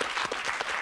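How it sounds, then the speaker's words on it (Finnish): A moment of studio audience applause on a Finnish television comedy show, a brief dense wash of many hands clapping at steady loudness. "Täytyy myöntää. Aplodit."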